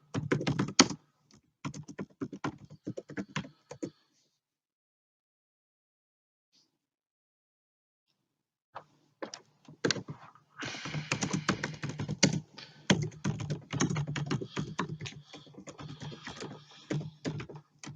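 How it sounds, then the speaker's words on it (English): Someone types randomly into a chat on a computer keyboard, with rapid bursts of close, crisp key clicks, a silent pause of several seconds, then denser typing again. "he's just typing randomly in the chat"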